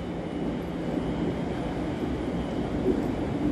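Steady low rumble of a train arriving at Tame Bridge Parkway station, a continuous broadband roar at moderate distance with no clear horn or voices.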